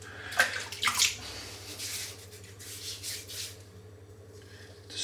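A fairly dry shaving brush is swirled in a tub of Tallow and Steel shaving soap, giving a soft continuous rubbing and swishing with a few faint squeaks, close and quiet over a low steady hum.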